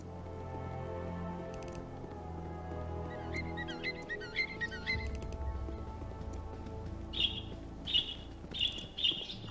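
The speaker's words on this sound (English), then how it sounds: "birds are chirping in a stark contrast" In the video game Baldur's Gate, birds chirp in a wooded roadside area: a burst of twittering in the middle, then a series of short, sharp, repeated calls near the end over a soft ambient music bed.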